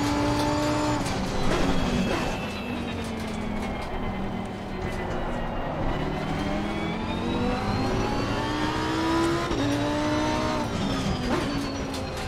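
Race car engine from Assetto Corsa Competizione, racing at Brands Hatch, roars continuously and loudly, its pitch rising and falling through gear changes and revs across the whole stretch.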